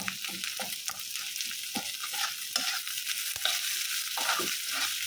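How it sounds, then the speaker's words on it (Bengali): Onion, garlic and dried fish are stir-fried together in a hot pan, a steady close sizzle broken by repeated scraping and clacking strokes of a spatula stirring the mixture, with no talking. "পেঁয়াজ শুটকি রসুন সব কিছু একসাথে মিশিয়ে নিতেছি"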